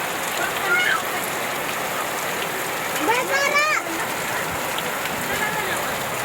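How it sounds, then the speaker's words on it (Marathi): Heavy unseasonal rain with hail pours steadily over farmland, a dense continuous hiss throughout, while someone talks over it and a bird chirps briefly. "तर मित्रांनो असं अवकाळी पाऊस सुरू झालेला आहे आपल्या परिसरात"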